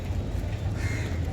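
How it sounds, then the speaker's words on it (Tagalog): Crows caw against a noisy outdoor background, with harsh calls rising over a steady low rumble. "Gutom na yung mga ibon."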